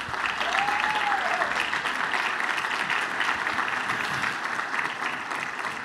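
Steady, full applause from a church congregation, many hands clapping evenly at a constant level throughout, with a brief faint whistle-like tone near the start.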